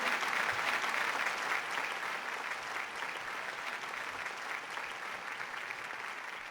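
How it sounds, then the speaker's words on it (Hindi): Audience applause for poet Alok Srivastava at a mushaira in Dubai, a sustained, thick roar of clapping from a large crowd, slightly distant and holding steady throughout. "इनको मेरी तरफ से भी तालियां बजाइएगा इनके लिए।"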